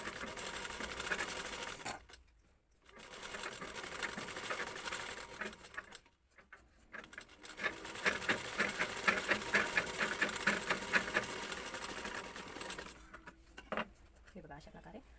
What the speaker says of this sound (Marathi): हे बघा ही अशा प्रकारे एक स्टिच मारून घ्यायची.